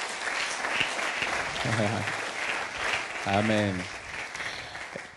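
A church congregation applauds in a sustained, even clatter of many hands throughout, while voices call out briefly over the clapping.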